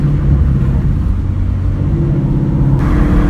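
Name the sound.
Ford Mustang 5.0 engine revving in a first gear pull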